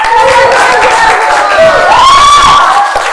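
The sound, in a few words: crowd applauding and cheering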